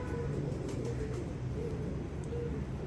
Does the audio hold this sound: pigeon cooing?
yes